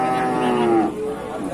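A breeding cow moos nearby, a loud drawn-out bellow that slides downward in pitch, followed by softer farmyard background.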